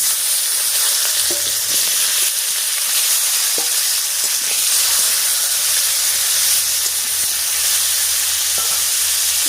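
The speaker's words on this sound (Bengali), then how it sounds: "এবারে কেটে রাখা শিম আর আলুটা দিয়ে দিচ্ছি" Cut flat beans (shim) and potatoes fry in hot oil in a village-style kitchen, giving a loud, continuous sizzling hiss with occasional scraping stirs, close and unbroken with no voices.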